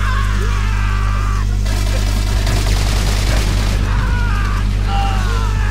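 A grenade explodes in the Wii version of Call of Duty: World at War, a loud, broad blast in the middle amid continuous battlefield gunfire and other in-game sounds.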